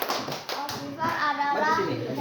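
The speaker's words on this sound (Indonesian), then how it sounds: "tepuk tangan untuk Farhan." A classroom of children claps for a classmate named Farhan, quick uneven hand claps building to a fuller round of applause, with children's voices and chatter mixed in.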